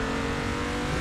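A race car engine in the Assetto Corsa racing game holds a steady, continuous drone at high revs for a short moment, with no pause and no voices.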